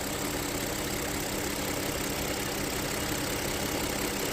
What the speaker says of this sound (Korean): 엔진 사운드 한번 들어보시기 바랍니다